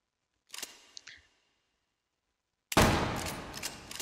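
A Winchester 1873 lever-action rifle in the H3VR shooting game: faint, brief clicks and clacks of handling are followed by a single loud, sharp shot with a short ringing decay.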